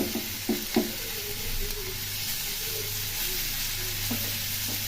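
Cauliflower and potato fry with cumin, coriander, chili, ginger and tomato in a pan, a steady sizzle broken by a few sharp stirring knocks early on and near the end, with no one talking.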